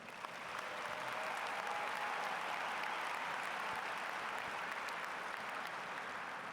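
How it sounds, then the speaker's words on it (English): A large graduation-ceremony audience applauds students in a sustained, even wash of clapping that holds steady throughout, distant and diffuse as if heard across a big hall. "How about a round of applause for all those students?"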